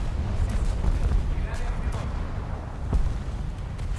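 Italian premium battleship in War Thunder letting loose a 13-gun broadside, deep rumbling booms rolling over a constant heavy low roar, with sharper reports near the middle and end, loud and close.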